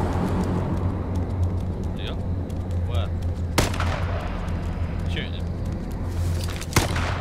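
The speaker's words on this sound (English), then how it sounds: "Yeah, I'm shooting at him." Gunfire in the battle royale game H1Z1, a few sharp distant cracks standing out over a steady low in-game hum, with two louder reports near the middle and end and a voice heard faintly at times.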